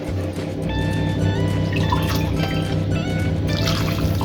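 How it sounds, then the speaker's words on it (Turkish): About a glass of water is poured onto simmering İzmir köfte sauce in a pan, making a steady, continuous liquid pour that runs close and fairly loud from start to finish without a break. "Sosumuzun üzerine Yaklaşık olarak bir su bardağı kadar su ekliyorum."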